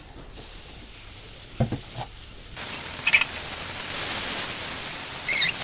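Fish rubbed with salt and turmeric fries in hot oil in a pan, a continuous crackling sizzle with a few louder spits and bursts along the way.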